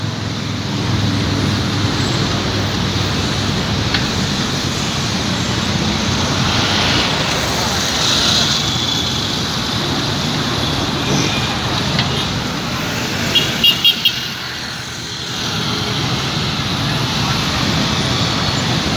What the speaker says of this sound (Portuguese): Trânsito medonho aí,